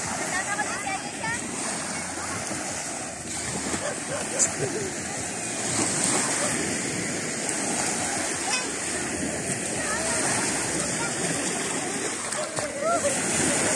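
Children bathing at an outdoor swimming spot in Quezon, with steady rushing water and splashes throughout, and voices calling out over the continuous wash.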